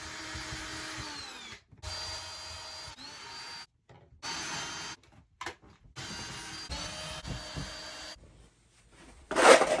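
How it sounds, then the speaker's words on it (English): A power drill backs screws out of the silver trim on an RV during a rehab, whirring in several short bursts separated by pauses, ending with a louder rough burst. "And I'm just unscrewing all these silver trim, all the trim."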